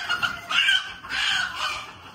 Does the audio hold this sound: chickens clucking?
yes